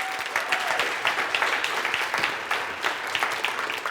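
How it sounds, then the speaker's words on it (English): A crowd claps steadily for a few seconds, a dense patter of applause from many hands. "Give him a big round of applause."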